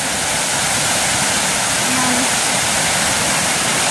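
Floodwater rushing along a swollen river, a loud, continuous roar of churning water that fills the whole clip without pause.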